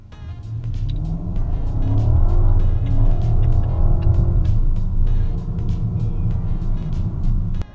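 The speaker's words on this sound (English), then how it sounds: "just step off the brake, onto the throttle, and it takes off" A BMW 750i LCI accelerating hard in sport mode: a deep, rumbling engine note swells and climbs steadily through the revs, loud and close, with no talk over it.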